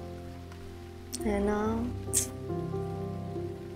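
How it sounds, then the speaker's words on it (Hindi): Steady rain falls outside in a continuous soft hiss, heard under a voice talking indoors, with a brief sharp click partway through. "क्या बारिश है ना यार।"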